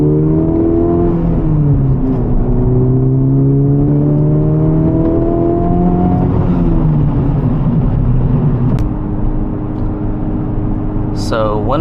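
A Honda Civic Type R FL5 fitted with an AWE Touring exhaust accelerates on canyon roads, its engine note rising through the gears with steady, loud revving that fills the cabin as someone talks over it.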